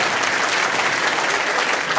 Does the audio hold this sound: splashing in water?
no